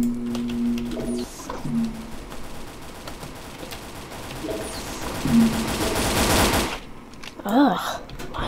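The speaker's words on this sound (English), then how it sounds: "why are so many gunshots?" Gunfire in the Roblox game Area 51, bursts of rapid shots crackling in the middle stretch and building to a loud dense volley before cutting off, with game tones and brief voices around them.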